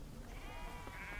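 A herd of sheep bleats on ranch land, a single drawn-out, wavering bleat heard against a noisy, wind-rough background.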